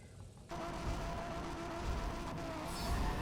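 A Nissan 350Z is driven in the Soapbox Race World racing game, a steady, fairly quiet engine drone with tire and road noise that swells slightly toward the end.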